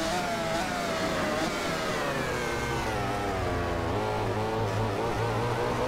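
A racing motorcycle in the MotoGP 15 video game, on the Termas de Río Hondo circuit, accelerates in short measured bursts. The engine drone is continuous and rises in pitch with no voice over it.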